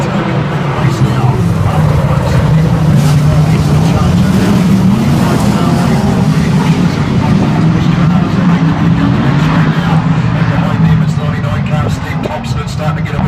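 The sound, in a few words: sprint cars racing on a dirt track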